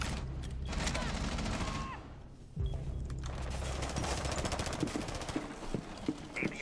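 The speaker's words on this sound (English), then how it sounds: "They're shooting out the window over here." Shots fired out of a window in a tactical shooter video game, heard as bursts of scattered gunfire over busy in-game noise. The shots come in clusters with a brief lull midway.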